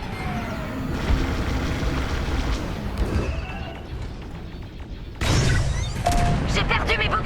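Booming blasts and rumbling bursts punctuate a busy space-combat game soundscape in Star Wars: Squadrons, with a sharp louder explosion near the end.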